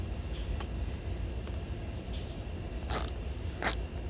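Bolts on a 2021 Harley Davidson Street Bob FXBBS seat get tightened, with faint creaks and ratcheting clicks over a low background rumble, plus two sharp brief clacks near the end.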